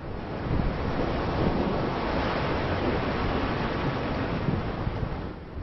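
Ocean surf on the Big Island of Hawaii where lava reaches the sea: a continuous broad roar of waves and wind, steady and dense with no distinct breaks.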